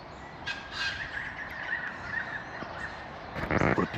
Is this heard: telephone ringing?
no